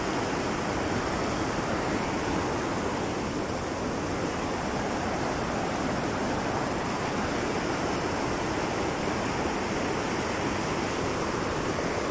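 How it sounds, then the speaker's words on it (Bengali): A fast-flowing river swollen by monsoon rain near Bijanbari in Darjeeling gives off a constant, dense rushing roar of water, steady and unbroken throughout with no speech. "আর জলের কিন্তু খুব স্রোত, বর্ষা যেহেতু, বর্ষার জলের জন্যই হয়তো এতটা স্রোত।"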